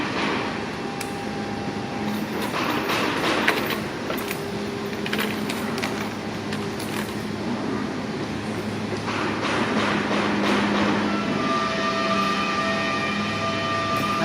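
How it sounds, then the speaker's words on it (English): A wood router fitted with a straight trimmer cutter runs continuously with a steady, close, high whine and a rough cutting noise, growing slightly louder toward the end. "Now that noise you can hear is a router"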